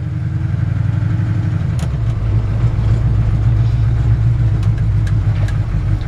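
A 1965 Chevrolet C-10 pickup's engine hums steadily and close while driving, the low drone dropping in pitch as the brakes are applied, with faint clicks and rattles over the continuous rumble.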